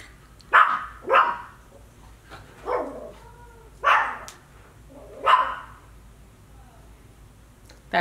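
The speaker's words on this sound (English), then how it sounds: "Who are you barking at?" A dog barks several times indoors, sharp loud woofs spaced irregularly with short pauses between them.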